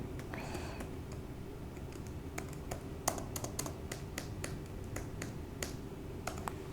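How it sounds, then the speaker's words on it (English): Quiet, irregular clatter of keys as a username and password are typed on a computer keyboard, individual taps and short runs spaced unevenly, with no talking. "let me type my user name and then password"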